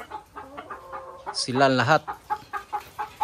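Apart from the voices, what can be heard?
layer chickens clucking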